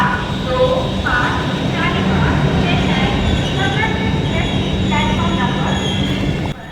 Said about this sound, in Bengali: 1 ঘন্টা 5 মিনিট লেট করে আমাদের ট্রেন ঢুকলো জাজপুর কেওনঝড় রোড স্টেশনে